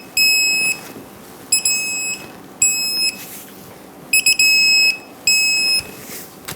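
Electronic beeping from a torque wrench as pitman arm bolts on a 2007-2014 Chevrolet Silverado 2500 HD are torqued to 203 foot-pounds: several loud, steady high-pitched tones in short bursts with pauses between them, over a faint hum.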